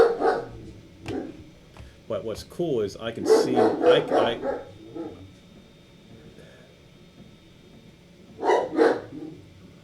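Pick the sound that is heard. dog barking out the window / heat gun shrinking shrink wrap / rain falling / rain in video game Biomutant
dog barking out the window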